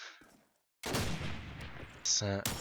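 Gunfire in Call of Duty 2 on the Dawnville map during a competitive match, heavy bursts of shots loud and close after a brief quiet gap, with a sharp metallic ringing burst near the end.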